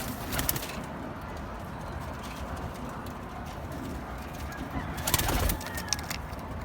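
Pigeons and other birds calling outdoors in summer, with soft cooing and chirps over steady ambient noise and a few brief louder rustles or clopping sounds.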